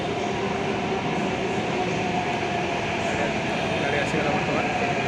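Metro train at a metro station in Faridabad, a loud steady rumble and whine of rail cars with constant roar, while someone talks over it.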